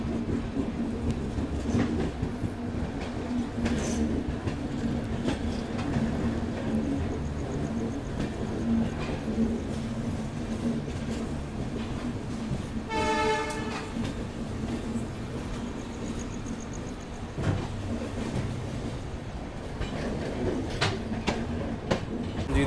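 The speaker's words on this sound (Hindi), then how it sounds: "तो अजमेर से निकल चुकी है हमारी हमसफर एक्सप्रेस में" The Rajasthan Humsafar Express runs on after leaving Ajmer, heard from inside a coach as a continuous low rumble with rhythmic clickety-clack of wheels over rail joints and a brief squeal midway, steady and moderately loud.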